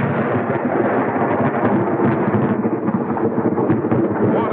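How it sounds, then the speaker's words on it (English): Large ammonium nitrate blast in the Bingham Canyon open-pit copper mine, heard as a dense, continuous thundering roar that stays loud and broad for several seconds, like far rolling thunder, with no voices. "What an explosion!"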